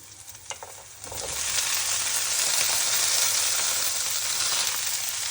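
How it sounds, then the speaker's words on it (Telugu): Cluster beans drop into a pan of frying onions, and after a few light taps a loud, steady sizzle swells up and holds close until the end, with no talking. "ఆనియన్ వేగిన తర్వాత చిక్కుడుకాయ వేసుకున్నాలి"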